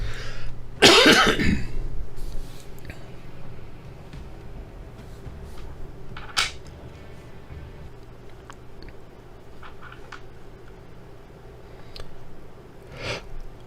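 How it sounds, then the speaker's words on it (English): A single harsh cough bursts out close by near the start, followed by quiet background with faint scattered noises and a softer sound near the end, during MechWarrior Online gameplay. "I got a cough."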